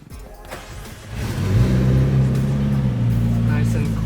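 A car engine rises from a low rumble into a steady, louder drone as the car is driven and parked in a garage, the low engine tone holding near and continuous.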